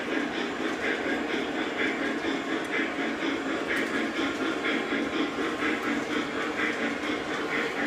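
A model train rolls steadily around a home layout, giving a continuous rumbling, clattering rail noise at a fairly even level that stays close and unbroken throughout.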